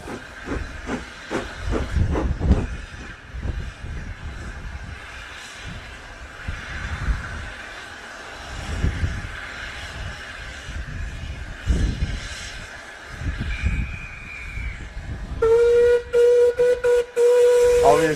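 A steam locomotive on a heritage railway near Blaenavon, letting off loud bursts of hissing steam, then sounding a sustained shrill whistle in several blasts near the end.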